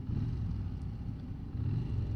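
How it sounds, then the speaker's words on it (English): A Yamaha Bolt air-cooled motorcycle engine runs with a low, throbbing rumble, steady and moderately close with slight pulsing, and no voices over it. "And the engine sound actually sounds pretty good."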